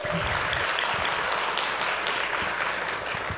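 A comedy night audience claps continuously, a dense, loud wash of many hands that holds steady from start to finish with no voices on top.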